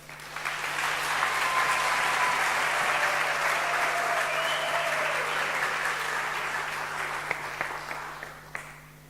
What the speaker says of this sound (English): really another round of applause